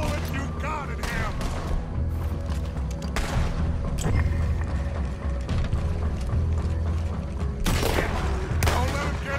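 Gunfire in Red Dead Redemption 2, a rapid fusillade of close, loud shots and booming blasts over rumbling action, with voices shouting between volleys.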